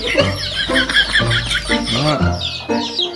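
Several chickens cluck and squawk close by in a busy, overlapping chorus at feeding time, with a rooster-like call rising among them.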